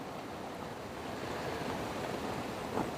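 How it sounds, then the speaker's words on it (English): Wind gusting over a lake during a carp fishing session, a steady broadband rush of faint, distant-sounding noise with a slight swell, no talking. "Oh, the wind's coming back."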